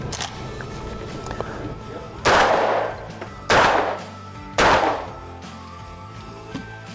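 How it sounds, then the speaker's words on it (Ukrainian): Three loud gunshots ring out close by, spaced about a second apart, each with a sharp crack and brief echoing decay over a quiet background. "Давайте зробимо серію пострілів"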